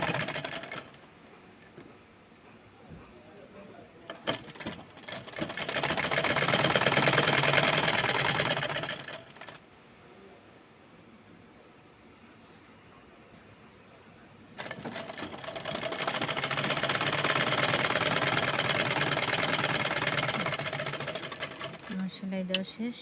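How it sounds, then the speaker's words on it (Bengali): A sewing machine stitching a baby skirt whirs loudly in two long runs separated by a quieter pause, close and mechanical with a steady rattling drone, and a voice talks intermittently through it. "আমি এখন এটার উপর দিয়ে আরেকটা সিলি দিয়ে নেব।"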